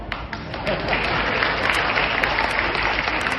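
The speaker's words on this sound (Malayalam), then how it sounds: "അത് ഞാൻ കൈയടി ചോദിച്ചു വാങ്ങിക്കണം" A large crowd applauds at a political speech in Kerala given by Suresh Gopi, dense sustained clapping that stays loud and steady throughout with no voice on top.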